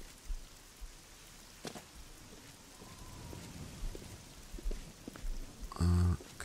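Rain in the video game Oblivion, a continuous soft patter with scattered low rumbles and a few sharper thuds, ending in a brief loud burst.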